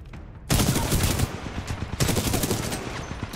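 Rapid automatic gunfire in the Titanfall 2 campaign bursts in suddenly after a brief quiet moment, a dense, loud, close stream of shots with a short break before the firing picks up again.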